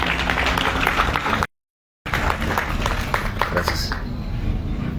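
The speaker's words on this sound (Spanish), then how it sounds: "Démosle un grato aplauso por el informe que hoy viene a presentar aquí en nuestro plantón" Crowd applause at an outdoor protest camp in a public plaza, dense clapping mixed with voices and talk, cut by a brief total silence before the clapping resumes and then thins out.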